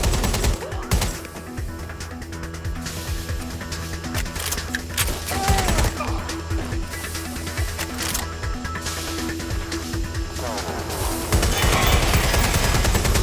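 Weapons fire in Watch Dogs Legion, set in a busy game soundscape: dense, repeated shots and rattling bursts running almost the whole time over a music bed, loud and close.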